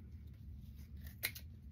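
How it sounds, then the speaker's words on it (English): A single quick snip of scissors cuts through rope for a handmade fall craft broom, one sharp close crunch in an otherwise quiet room. "I'm going to keep cutting my rope"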